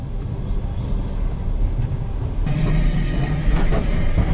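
Steady low rumble and rattling inside a moving Trans-Siberian train carriage, with a louder patch of clatter partway through; no one talks.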